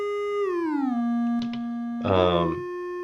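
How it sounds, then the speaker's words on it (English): Sine wave signal fed into the Autophage module, a pure steady tone that glides down in pitch and holds, then gives way to a brief buzzy, harmonically rich burst. "from the default state, we've got a sine wave coming in"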